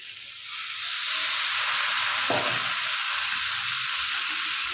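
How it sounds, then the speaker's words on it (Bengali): Spice paste with ground coriander and cumin sizzles in a hot pan, a steady close frying hiss that starts abruptly and continues unbroken, with a brief low clunk of stirring partway through. "দিয়ে মশলাটাকে ভালো করে কষিয়ে নেব।"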